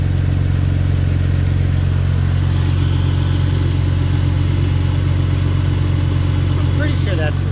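The engine of an x50 car runs steadily at the end of its cold start cycle, a loud, even low rumble that holds at a constant idle throughout, with only a faint brief click near the end.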